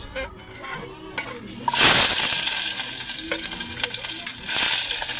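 Onions hit a hot pan with a piece of fish, bursting into a loud, steady sizzle after a few quieter clatters, with a voice speaking briefly beforehand.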